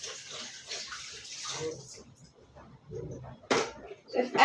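Tap water runs in a kitchen while hands are washed, a steady splashing hiss that is strong at first and then fades, under a person speaking.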